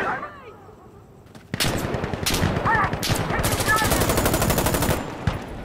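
Loud, close automatic gunfire in Insurgency: Sandstorm bursts in suddenly after a quieter start, rapid sustained machine-gun rattles and shots filling most of the moment.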